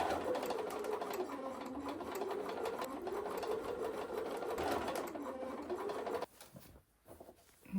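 A sewing machine stitches a quarter-inch seam on a patchwork love-hearts quilt wall hanging, running in a steady, fast, close whir for about six seconds before stopping abruptly.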